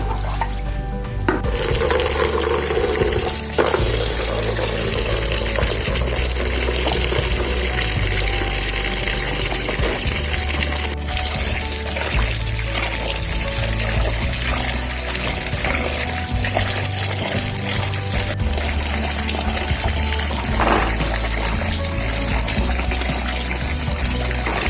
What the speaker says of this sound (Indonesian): setelah rimpang tercuci semua, barulah dilakukan pencucian ulang untuk membersihkan sisa-sisa kotoran yang menempel